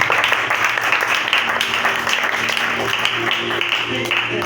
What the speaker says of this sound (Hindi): जोरदार तालियां बजाएं खुदा की।